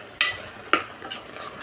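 A spoon stirs bean sambar in oil in a pan, giving two or three sharp scraping clinks with a faint sizzle between them, close and brief.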